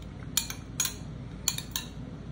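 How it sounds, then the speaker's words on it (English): A spoon clinks against a bowl while stirring chamoy-coated watermelon candy, four sharp metallic taps in two pairs, close and distinct over a quiet room hum. "So we're just gonna stir it like some cereal again."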